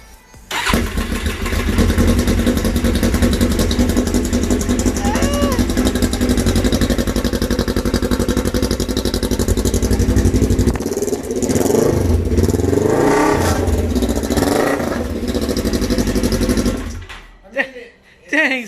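A 2014 Polaris RZR 1000 side-by-side with a modified exhaust cranks, fires up and revs loud and close, the blasts rising and falling before it drops back and shuts off; voices speak over the running engine.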